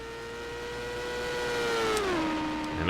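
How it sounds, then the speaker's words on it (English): IndyCar on a qualifying lap at Texas in the racing sim NR2003, a steady high engine whine rising slightly in loudness, then dropping in pitch as the car passes, moderately faint. "Ethan Lewis completing his second full lap."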